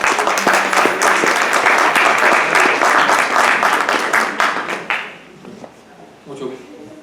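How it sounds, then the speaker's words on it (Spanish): An audience at an academic lecture gives loud, dense applause for an invited professor. The clapping holds steady for about five seconds, then thins out and fades to scattered claps. "Démosle un fuerte aplauso, por favor."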